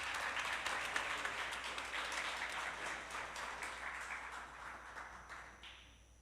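A room claps for a winner at an awards ceremony, the steady patter of many hands heard at a modest distance, gradually thinning over about six seconds.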